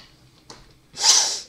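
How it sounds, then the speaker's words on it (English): A person clears their throat once with a short, harsh, breathy rasp, close and fairly loud, after a faint breath; no talking. "No, clear my throat."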